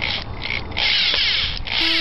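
A power drill whirs into material while building a homemade tripod, its motor rising and easing in a few uneven bursts, loud and close, before a brief tone at the end.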